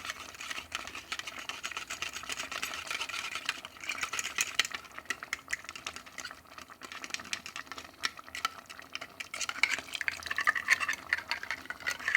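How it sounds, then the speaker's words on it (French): Water poured into an emptied tomato concentrate tin to rinse out the remainder, a continuous splashing, gurgling pour with metallic rattle, close and fairly loud, with no talking. "N'oubliez pas de mettre de l'eau pour rincer tout le restant qu'il y a"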